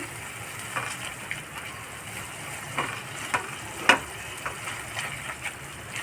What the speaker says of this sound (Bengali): আর একটু ফ্রাই করে নেব, মশলাটা কষিয়ে নেব।